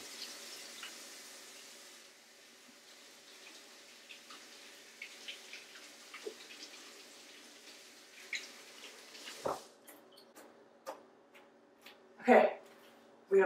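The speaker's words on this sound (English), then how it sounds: "Okay, we have washed the sweet potato." Sweet potato being washed under running tap water at a kitchen sink, a soft steady stream with faint splashes and a few louder splashing bursts near the end, heard without speech.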